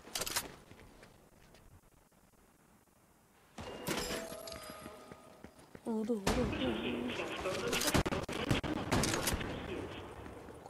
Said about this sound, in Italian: Sento spari a sto muretto.